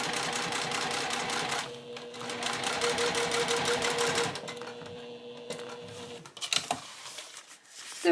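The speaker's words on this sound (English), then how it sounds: "I'm going to top stitch across this edge just to finish that seam." A sewing machine top-stitches across a seam edge in quick rhythmic bursts, stopping and restarting a few times before handling noises at the end.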